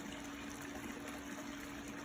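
A pool waterfall feature at a Lakewood Ranch, Florida home runs steadily, giving a constant, even wash of falling water with no breaks and no voices, close and moderately quiet throughout.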